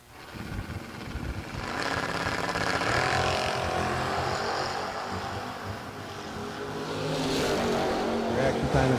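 A 1980 Chevrolet Camaro at a drag race produces a sustained loud engine roar that builds and holds over several seconds, with a crowd and track ambience around it.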